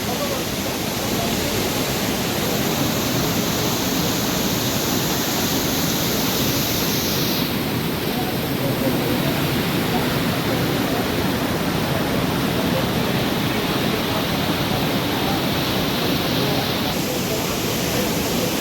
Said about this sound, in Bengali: পাহাড় থেকে ঝর্ণা জল বেরোচ্ছে, পাহাড় থেকে জল পড়ছে